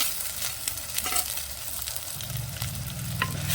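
Tomatoes fry in masala for a village-style kurma cooked over a wood stove, giving a steady close sizzle with occasional stirring scrapes throughout and no talking.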